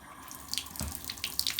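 A household tap runs in a thin, quiet trickle, with soft splashes and drips at the basin and no talking over it.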